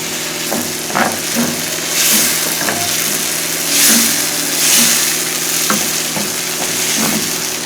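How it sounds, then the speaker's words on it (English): Dry chili pepper fries in a pan with a close, continuous sizzle, broken by repeated scraping and clinking strokes as it is stirred, with swelling bursts of hiss. "That's dry chili pepper. Just small of it. Just to have that taste. So I'm going to give it a stir"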